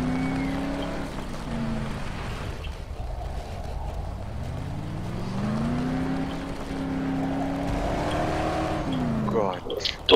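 A car in the video game Dead Island drives on with a steady engine drone whose pitch dips and climbs as it shifts and accelerates, ending in a burst of clatter; people talk over it.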